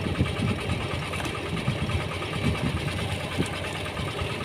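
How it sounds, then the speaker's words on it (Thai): An engine-driven water pump runs steadily while drawing water from a backyard pond, giving a continuous close, rough mechanical drone with rapid knocking pulses and no pauses. "นี่ก็ สูบน้ำขึ้นนะครับชั่วโมงกว่าๆนะครับ"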